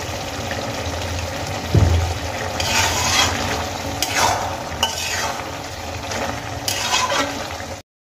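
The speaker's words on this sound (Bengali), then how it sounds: "লবণ দিয়ে দেওয়ার পরে আমি কিন্তু খুব ভালো করে নাড়িয়ে চাড়িয়ে নিয়েছি।" A spoon stirs salted cabbage vegetable curry in a pan, scraping and sizzling steadily with a few louder clanks against the metal, close and alone with no talk.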